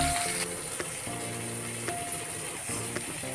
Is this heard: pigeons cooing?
no